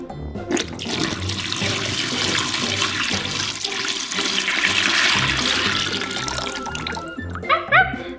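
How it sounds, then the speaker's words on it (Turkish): Warm water poured into a toy pool, a loud, close, continuous gush and splash that trails off into drips and small splashes near the end. "Hadi onu havuza dökelim."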